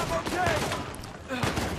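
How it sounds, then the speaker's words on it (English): Rapid gunfire in the Uncharted 4 game during a climb on a moving column, with bursts of sharp overlapping shots that are loud and close alongside other game sounds. "Oh, god, I'm getting shot at."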